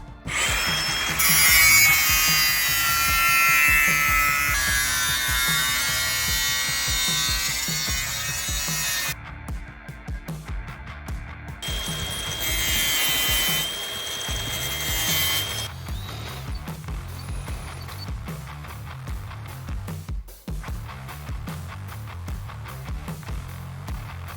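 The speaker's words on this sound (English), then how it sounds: "So there'll be a bit of drilling, a bit of grinding." Power tools drill and grind close by while a canopy is fitted to an Isuzu D-Max ute, with a long, loud high-pitched grinding run, brief pauses, then further whining and drilling bursts.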